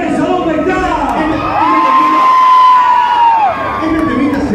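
Live concert crowd of women screaming and cheering loudly, a sustained roar with one high shriek rising above the din.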